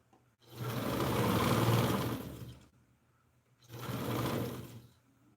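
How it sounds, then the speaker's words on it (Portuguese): A sewing machine topstitches along a blouse neckline in two steady whirring bursts, the first longer and the second shorter, separated by a short pause. "aqui eu tô fazendo o pesponto no decote"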